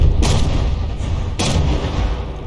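Shells striking a battleship's rear turret in the naval game From the Depths: two loud, sharp impacts about a second apart, each a heavy boom over a constant low rumble.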